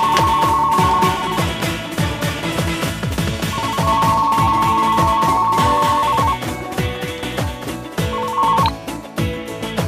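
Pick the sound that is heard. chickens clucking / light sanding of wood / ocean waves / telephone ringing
telephone ringing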